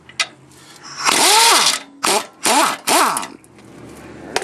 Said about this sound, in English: The bottom bolts are 12mm, and I'm using an impact.